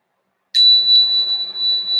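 A meditation bell is struck once after a moment of silence, its clear high tone ringing out and sustaining with a slow shimmering decay.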